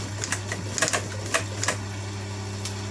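A sewing machine fitted with a topstitching foot runs in a steady mechanical hum with light, irregular clicking ticks, close and moderately quiet, with no talking over it.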